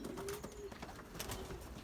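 Pigeons kept in a racing-pigeon loft on a hot day, giving soft low cooing calls that repeat steadily over faint background noise, fairly close by.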